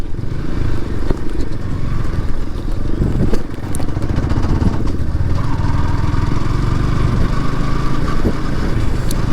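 A Bajaj Pulsar V3 motorcycle's engine runs steadily up close beside a river landing where boats wait, a continuous low rumble with some clatter and rattling throughout.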